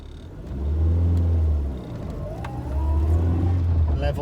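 An Austin Allegro 1300 Super being driven: a low engine drone swells as it accelerates, eases off, then climbs again, heard from inside the car, close and fairly loud, with some faint background sounds.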